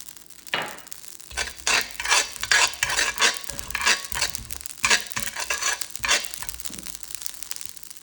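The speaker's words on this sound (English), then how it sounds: "is to toast very quickly our seeds and spices" Cinnamon, allspice, cumin and sesame seeds toast quickly in a dry pan for Oaxacan mole, with close, repeated scraping and stirring strokes over a light sizzle and rattling seeds.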